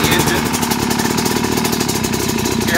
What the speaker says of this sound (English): Give it a little throttle so I can listen to the sound of the engine